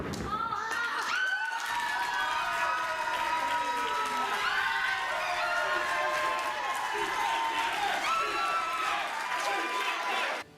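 A wrestling crowd cheering a marriage proposal in the ring: sustained loud cheers and applause fill the arena for about ten seconds, with a voice talking over the noise.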